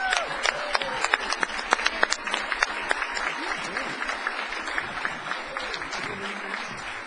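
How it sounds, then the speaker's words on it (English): An audience at a Toastmasters semifinal contest applauds the contestants, a fairly close, crisp round of clapping with distinct individual claps popping out over a steady bed, while voices murmur beneath it. "let's get one last round of applause for our contestants"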